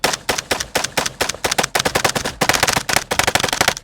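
A Stenzel SAK-21 AK rifle fires rapid strings of loud, close shots in quick bursts with brief pauses between them, each crack sharp and punchy during a high-volume round-count torture test.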